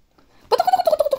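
A Minecraft chicken clucks in a quick burst of pulsing, throaty calls that start about halfway through and repeat rapidly after a brief quiet lead-in.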